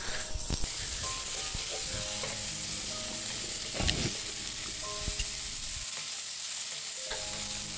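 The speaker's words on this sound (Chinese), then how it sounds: "我哋将啲蒜头啊，嗰啲料头啊，洋葱啊，我哋可以放落去噶啦，炒香啲洋葱去" Garlic, aromatics and onions stir-fried in a wok give a steady loud sizzle, with scraping strokes of a utensil and clinks against the pan throughout.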